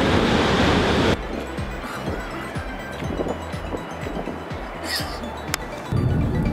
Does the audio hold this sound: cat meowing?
no